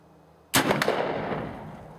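A single loud shot from an 1873 Springfield trapdoor rifle firing black powder outdoors in snow, a sharp blast followed by a long rolling decay.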